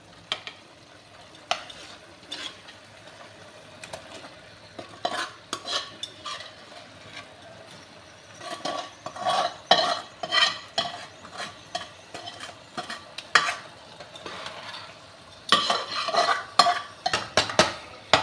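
A spoon stirs and mashes thick tomato chutney in a pan, irregular scraping and tapping strokes coming in bursts over a soft sizzle.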